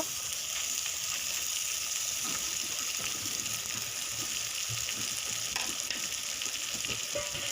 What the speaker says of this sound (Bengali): তো এবার এটা আবারও নাড়াচাড়া করব একদম মিডিয়াম ফ্লেমে।